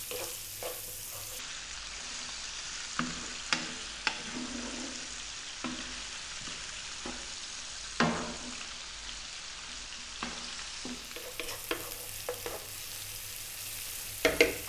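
Chopped onion and garlic with salt and black pepper sautéing in a pan for a creamy spinach pasta, a soft steady sizzle broken by occasional scrapes and clinks of stirring.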